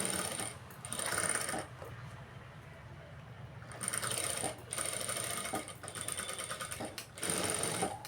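Sewing machine stitching a back lining to the main cloth, running slowly in short bursts of rapid mechanical whirring separated by brief pauses, close and fairly quiet with no talking.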